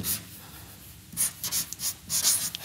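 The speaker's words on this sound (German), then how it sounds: "ich schreibe jetzt dazu" Handwriting on a board or paper during a German-language lecture on fat loss, a few soft scratchy strokes in quick bursts, close and fairly quiet, with no talking.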